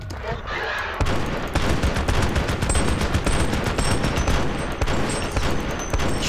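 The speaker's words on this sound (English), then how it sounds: "Alright, I'm going dual pistols on this." Dual pistols firing fast in Project FEAR, a rapid loud volley of sharp close gunshots that starts after a brief quieter moment and keeps up in tight bursts to the end.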